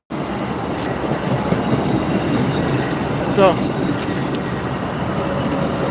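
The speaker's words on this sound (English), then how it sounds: "Let the train pass by real quick." An Amtrak train passing nearby, a loud continuous rumble and rushing roar throughout, with a brief bright horn-like tone in the middle and a single spoken word at the start.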